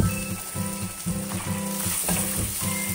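Garlic frying in a pan while cooking laing with taro leaves, shrimp, coconut milk and pork belly, a steady close sizzle broken by regular, evenly spaced tonal clinks or scrapes, with no speech.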